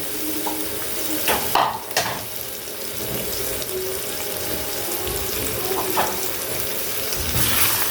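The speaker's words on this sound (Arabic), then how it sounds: "هنبدأ ننزلها على اللحمة المفرومة." Tomato sauce hits minced meat frying in a pan for a green bean and meat stew, making a watery, splashy hiss with a few sharp clinks and scrapes, and no talking.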